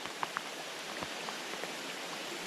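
Rain falls steadily over a trout stream, a soft close hiss of drizzle with a few scattered drops pattering nearby and a faint rush of water beneath it.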